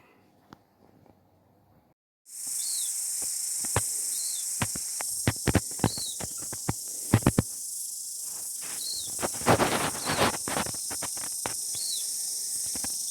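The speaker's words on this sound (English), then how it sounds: "Cicadas are out making lots of racket" Cicadas outdoors start up after a quiet moment into a loud, steady high-pitched drone, with repeated chirps and scattered sharp clicks and knocks nearby.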